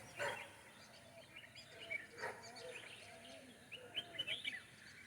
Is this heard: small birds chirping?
yes